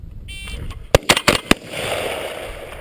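Rifle fire on an obscured qualification range, a couple of sharp loud reports close together followed by further quick cracks, heard near and distinct over low background noise.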